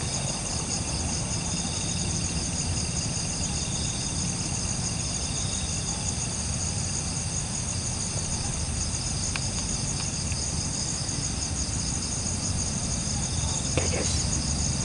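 Crickets chirp steadily at night during a bird hunt, a dense continuous high trill over a low hum of background noise, even and unbroken, with a faint extra click or two near the end.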